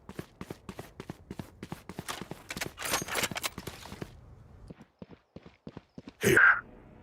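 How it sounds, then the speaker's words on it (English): Footsteps in the tactical shooter game Valorant during a tournament match, a quick series of sharp steps under busy game sounds, a short louder burst near the end. "Omen does hear the footsteps and calls it"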